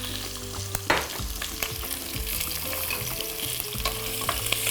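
Salted meat pieces browning in a pan, a loud continuous sizzle and crackle with a sharp clank early on and scattered utensil knocks, no voices.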